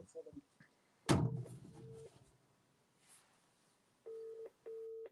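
During a Scottish Premiership football broadcast, a phone call plays on speaker: a thump as the call begins, a short muffled exchange, then two clear repeated electronic ringback or dial tones near the end. A voice talks around the call.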